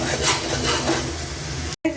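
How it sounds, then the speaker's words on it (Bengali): Crisp fried onions sizzle steadily in hot oil in a wok while being stirred, a continuous close hiss that cuts out briefly near the end, then resumes. "বেরেস্তাটাকে আমি ভালো করে ভেজে নেব।"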